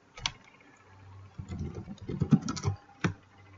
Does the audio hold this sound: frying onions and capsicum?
no